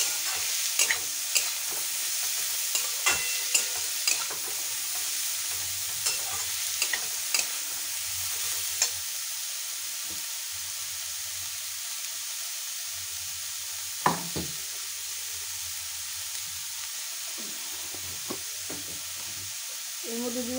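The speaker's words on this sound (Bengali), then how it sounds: "এবার গাজরটা দিয়ে দিলাম, তারপরে বিনস, গাজরটা করে ভালো করে নাড়িয়ে নেব" Carrots and beans frying in a pan as they are stirred, a constant bright sizzle with repeated scraping strokes and light taps of the spoon throughout, close by and without talk.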